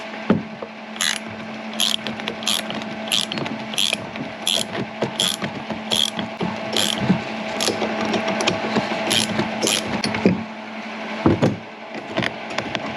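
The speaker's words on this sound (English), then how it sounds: "we can use our socket set to hold it in place while we spin this to get it off" Socket set ratchet spun to remove the top nut of a standard Cadillac CTS shock absorber: rapid, regular clicking pulses in close, repeated bursts with brief pauses, no talking.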